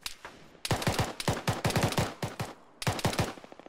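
Rapid automatic gunfire in a military video game, loud, dense bursts of shots close by, with a short pause before a final burst.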